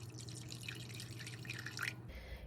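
Lukewarm filtered water poured into a bowl on a kitchen scale for sourdough bread, a steady close trickle and splash that stops abruptly near the end.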